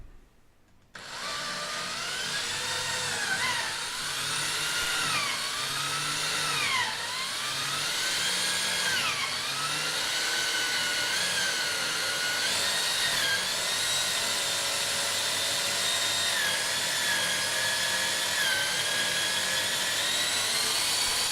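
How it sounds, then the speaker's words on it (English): A power drill drives screws into a wooden ITG2 dance pad replica, its high motor whine rising and dipping in pitch as each screw bites, with continuous close, loud drilling for about twenty seconds. "I just reverse the drill, back it out, and try again a little slower"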